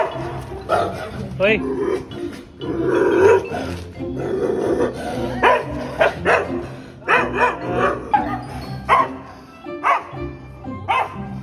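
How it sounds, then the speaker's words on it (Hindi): A dog barks repeatedly outdoors on a winter day, sharp close barks in bursts mixed with someone speaking over them. "ये देखो डॉग आ गया।"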